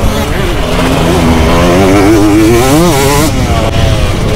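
A motorcycle engine revs hard and climbs steadily in pitch, loud and close, with a rising whine that peaks then drops off, at a three-hour pairs motorcycle race in Bergantino.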